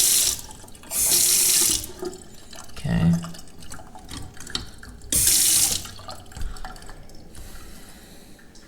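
Water gushes from a kitchen faucet into a cast iron sink in two loud bursts of running water, a brief clatter between them, and a short spoken word in between.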